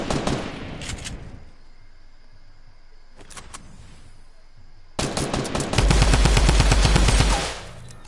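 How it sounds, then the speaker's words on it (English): Gunfire from a shotgun in a video game, with several sharp shots early on followed by a loud, rapid burst of repeated blasts near the end, with no talk over it. "This dude gonna pull out his shotgun and try to shoot me."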